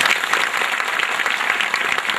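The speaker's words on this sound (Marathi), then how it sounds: "त्यांच्याकरता एकदा टाळ्या वाजवा" An audience at a religious discourse claps together, a dense, even burst of applause that stays loud and steady throughout with no pauses.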